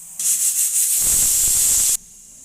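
Pressure cooker whistle from egg cutlet cooking: a steady, loud high-pitched steam hiss that starts abruptly, holds for under two seconds with a slight warble, then cuts off sharply.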